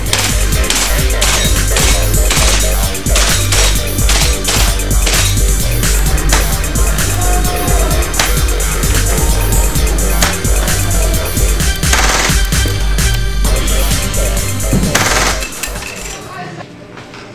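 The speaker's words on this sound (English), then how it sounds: "we're back from test firing the KWA Kriss Vector" A KWA Kriss Vector airsoft gun fires on full auto on an outdoor range, loud continuous rapid clatter of about twenty shots a second in long sustained bursts, close to the listener, stopping near the end.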